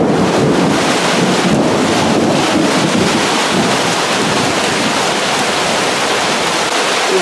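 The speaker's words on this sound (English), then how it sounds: "we're getting a really good storm." Loud, continuous roar of thunderstorm wind buffeting the microphone, a dense rushing noise with no voices.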